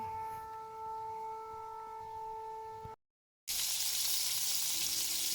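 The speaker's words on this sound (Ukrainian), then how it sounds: "Рибка смажеться." Steady sizzling of fish frying in a pan, a loud broadband hiss after a brief silence, with faint tonal hum in the first part.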